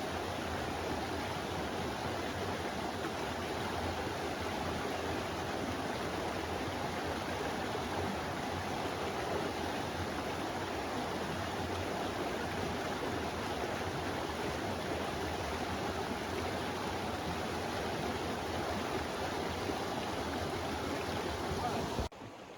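Steady rush of white water in a small mountain stream in North Georgia, a constant close broadband roar that holds unbroken and alone throughout.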